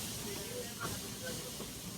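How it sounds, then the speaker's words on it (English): A steam locomotive on the Walt Disney World Railroad hisses in a broad, continuous rush of steam that stays loud and steady throughout. "we're traveling on pure steam power"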